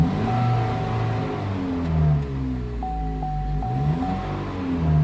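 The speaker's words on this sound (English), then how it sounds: "The vehicle is running." A Chevy Malibu engine idles steadily after a restart that follows a crank-no-start repair, a continuous low rumble with a faint whine running throughout.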